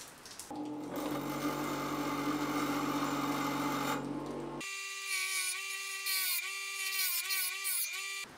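Power tool cleaning up a weld bead on a steel truss rod nut for a Martin-style acoustic guitar: a steady grinding whir for about four seconds, then a higher, tonal whine with small pitch dips as the tool works, loud and close with no talk.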